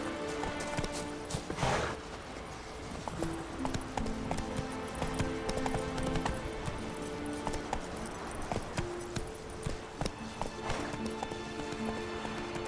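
Roach, the horse in The Witcher 3: Wild Hunt, clip-clops along at a steady hoofbeat rhythm, close and clear over soft game music tones.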